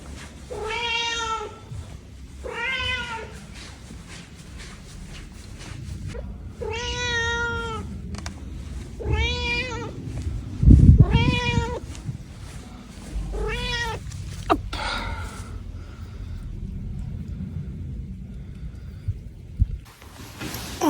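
A cat meows repeatedly, about seven drawn-out cries spaced a second or two apart, close and clear over quiet background noise.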